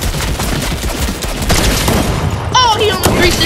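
Rapid gunfire bursts from a first-person shooter game, with booming shots and a few electronic tones under a player's excited voice.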